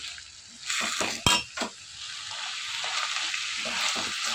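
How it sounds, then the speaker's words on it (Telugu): Malabar spinach (bachala kura) is stir-fried in a pan with salt and turmeric, giving a steady close sizzle broken by a few sharp clinks of a utensil against the pan. No voice is heard. "ఫ్రై అయ్యేంత వరకు ఇదంతా కూడా బాగా వేయించుకోవాలి"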